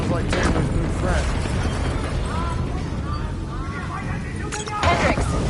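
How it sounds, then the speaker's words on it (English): In the video game Black Ops 3, explosions boom and rumble across a facility, with short sharp blasts near the beginning and again near the end, mixed with mechanical noise and voices talking over the action. "we have multiple explosions across the facility"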